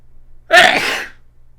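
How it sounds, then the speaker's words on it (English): A single sharp sneeze bursts out close by, loud and brief, with nothing else around it. "I'm sneezing."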